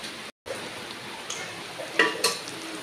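An egg fries in a pan for a home-cooked Bengali meal, with a steady crackling sizzle throughout, a brief cut near the start, and a couple of sharper spatters and clinks toward the end.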